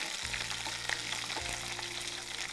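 Curry leaves, cashews and green chillies roasting in a pan, a continuous close crackling sizzle with a low steady hum underneath and scattered light pops.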